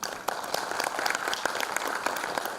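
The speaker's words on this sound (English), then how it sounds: "A round of applause for him," An audience in an auditorium at a literature festival claps steadily, a dense patter of many hands heard from a distance at moderate volume throughout.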